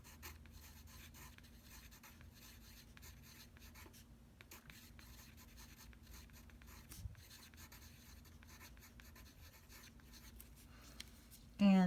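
A watercolor pencil is shaved in a faint, continuous scraping with brief pauses, close and quiet, ending in a louder clatter.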